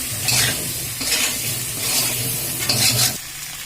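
Potato and biriya being fried with spices in a pan, a steady sizzle broken by several scraping strokes of a stirring spoon, close and moderately loud.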